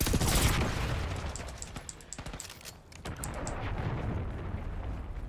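Gunfire and a flashbang in Call of Duty Black Ops 6: a loud burst at the start, then rapid clustered shots and crackling impacts over a dense rumbling game soundscape, fairly close and continuous.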